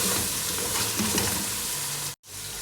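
Spices with garam masala fry in oil in a pan, giving a steady close sizzle that cuts out briefly near the end before resuming, with no voices.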